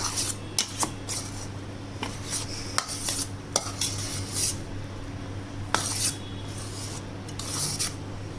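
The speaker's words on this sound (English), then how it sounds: "Mix this nicely, okay?" Chicken meat loaf mixture is worked by hand or spoon in a bowl, producing soft, wet squelching and rubbing with occasional scrapes and clicks against the bowl over a steady low hum, with no talking.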